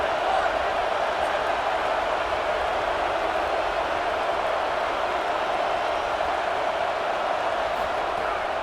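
A stadium crowd roars in the College Football 27 video game during an Oregon at Michigan State dynasty matchup. The broad, steady wash of crowd noise stays constant throughout, with no distinct cheers or claps.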